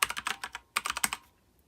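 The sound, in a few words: typing Wi-Fi network name on a computer keyboard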